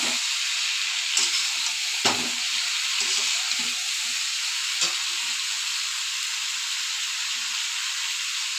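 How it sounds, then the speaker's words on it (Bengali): Potatoes and cauliflower frying in masala, a steady hissing sizzle with a few sharp stirring scrapes and knocks near the start, then an even sizzle, with no talk. "এবার আমি আলু ফুলকপিগুলো দিয়ে আবার কষিয়ে নেব।"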